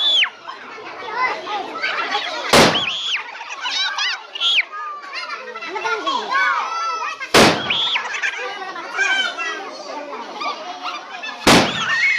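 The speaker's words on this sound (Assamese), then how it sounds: "এতিয়া গছ বোমা জ্বলাব" Three sharp, loud tree bomb firework blasts go off several seconds apart amid excited children's shouts, whistles and chatter.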